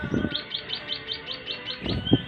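A male chestnut munia gives its courtship call to a female, a rapid series of about ten thin, high, evenly spaced notes, close and fairly soft, with rustling and a few brief louder sounds at the start and end.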